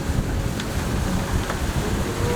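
Steady wind blows over a sailing boat off the coast of Turkey, a constant broadband rush with some microphone buffeting and faint water and hull sounds beneath it, with no talking.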